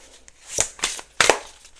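Tarot cards shuffled by hand in a few quick, close riffling bursts, soft papery flutters separated by brief pauses.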